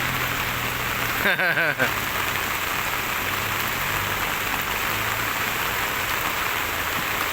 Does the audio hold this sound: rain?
yes